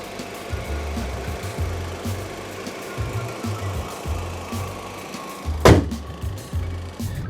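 Engine drone and road rumble from a Volkswagen Jetta GLS being driven, a steady low throb rising and falling, with a brief loud whoosh or passing noise near the end.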